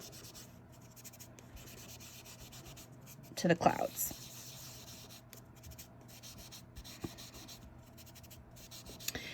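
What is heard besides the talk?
colored pencils shading on paper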